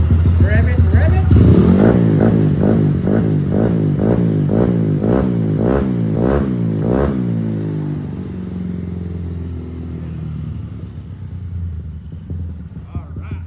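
A freshly overhauled 220cc motorcycle engine from a custom build is revved hard close by, a rapid series of loud rhythmic throttle blips that then fall back to a steady, rumbling idle.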